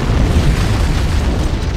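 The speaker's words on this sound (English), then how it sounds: "I'd guess an antimatter charge." A low, heavy rumbling roar from an antimatter charge exploding aboard a ship in the Halo video game, a dense sustained boom filling the moment, loud and alone without speech.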